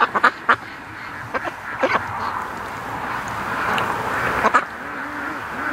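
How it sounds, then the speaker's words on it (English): Several ducks in a pen, including Muscovy ducks, quack in short bursts over a steady murmur of more quacking, fairly close, with a few louder calls near the start and end. "I hear a bunch of ducks trapped in the pen."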